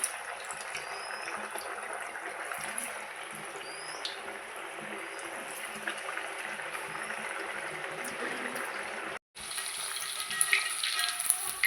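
Jackfruit seed parippu vada fry in hot oil, giving a continuous close crackling sizzle with faint bubbling, interrupted by a brief cut and then returning slightly louder with scattered pops.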